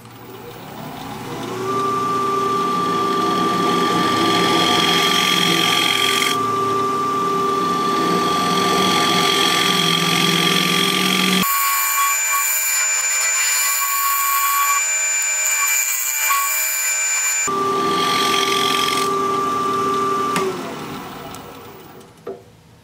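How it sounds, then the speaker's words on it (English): A wood lathe spins steadily while a negative rake scraper works a rounded, undercut barrel-shaped piece, giving a loud continuous whine with a sustained tone that shifts in character midway and fades near the end. "I'm gonna switch to my negative rake scraper for a minute."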